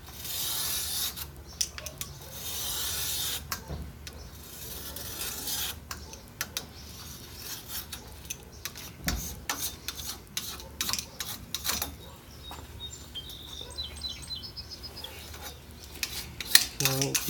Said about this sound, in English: The way I'm using a knife on a round surface, it's pretty impractical to scrape it all totally clean